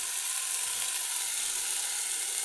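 Apples added to sugar in a hot pan give a steady, dense sizzling hiss that stays loud and even throughout, with no voices.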